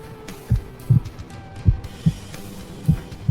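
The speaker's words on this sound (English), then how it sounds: "that's my heart beating" A heartbeat heard through a stethoscope thumps in a slow, steady rhythm of muffled low beats, about five clear pulses over a soft rumbling background.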